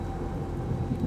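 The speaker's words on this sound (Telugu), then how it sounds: "ఒకరోజు ఉదయం మేఘాలు గర్జించే శబ్దం విని అడవిలో ఉన్న వాళ్ళకి," Thunder rumbling over a forest at morning in a storybook scene, a low continuous roll with a faint rain-like hiss, steady and moderately loud with no voices.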